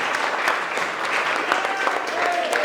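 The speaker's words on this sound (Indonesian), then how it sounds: "Kasih tepuk tangan" Classroom applause after a group presentation, a dense burst of many hands clapping close and fairly loud, steady through the whole moment, with faint voices mixed underneath.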